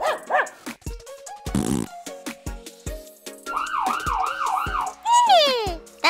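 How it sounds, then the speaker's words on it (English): Cartoon ambulance siren wailing in a rising and falling wee-oo pattern, mixed with bright toy-like musical tones, short electronic effects and brief barks, all loud and close with no speech over it. "That's right! The ambulance goes wee-oo,"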